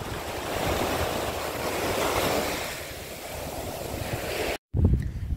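Sea waves wash onto the shore in a broad, steady roar that swells and eases, with wind buffeting the microphone, then cut off briefly before a rougher gust of noise near the end.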